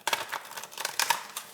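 Tarot cards being shuffled by hand, a quick run of dry papery riffles and slaps in close, uneven bursts with no voice over them.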